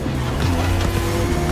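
A Ducati Panigale motorcycle engine in The Crew Motorfest video game holds a steady, droning tone with strong low harmonics while riding through a dark urban environment at night.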